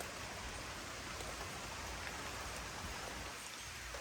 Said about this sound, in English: A little bit of rain coming.